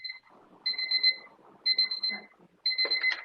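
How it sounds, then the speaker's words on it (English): An alarm clock goes off during an online voice call, sounding in three repeated bursts of rapid high double beeps with faint talk and background noise underneath. "You have some alarm going on there."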